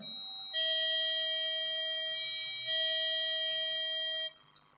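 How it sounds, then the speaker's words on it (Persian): A homemade ding-dong doorbell built around a BT8031 musical IC plays its electronic tune, two clear pure-toned notes that hold and then cut off, followed by a faint click. "این زنگ دینگ دانگ من چجوری درست کردم"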